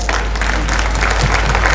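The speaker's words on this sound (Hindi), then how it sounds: "तो एक गार्जियन के लिए आप लोग एक ताली बजा दें।" An audience at a school annual function applauds, dense steady clapping from many hands filling the whole moment with no break.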